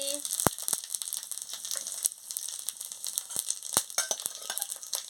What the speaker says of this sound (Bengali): আর ফোড়নটা দিয়ে দিচ্ছি